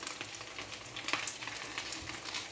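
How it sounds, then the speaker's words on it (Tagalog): CDO meatloaf frying in a pan gives a soft, steady sizzle with faint crackles and a few stirring scrapes, quiet and close with no talking. "Magluluto na lang tayo ng meatloaf. CDO guys, CDO."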